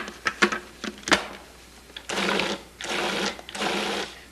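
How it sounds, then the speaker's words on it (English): A Cuisinart food processor pulses frozen pineapple chunks with sugar: several short choppy bursts, then three longer sustained runs of loud grinding motor noise, close up with no talk. "Add the sugar with the frozen pineapple chunks and then pulse several times to break up the fruit."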